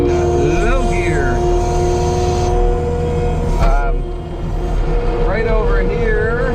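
A New Holland skid steer's engine drones steadily in low gear while pushing snow piles on a farm, a loud continuous rumble with a whining pitch that shifts as the load changes; someone talks over it throughout.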